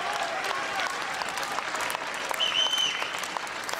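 Steady applause from a crowd filling St. Jakobshalle during the 2011 Swiss Open badminton women's singles final, loud and continuous, with a brief voice or whistle rising near the end.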